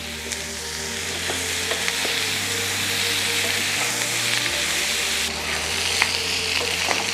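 Sliced onions with salt fry in a pan for chicken liver fry, a loud, close, continuous sizzle with occasional stirring scrapes and a low steady hum underneath.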